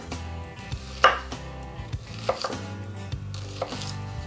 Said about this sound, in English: Now we're just gonna run our knife through.